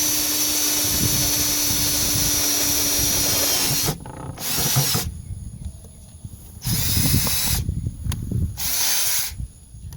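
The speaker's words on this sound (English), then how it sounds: "with a 1/2-inch bit, borer bit, and I'm just trying to drill through" A power drill with a half-inch borer bit whines in bursts, starting and stopping several times as the bit chews through material, with a steady hiss underneath.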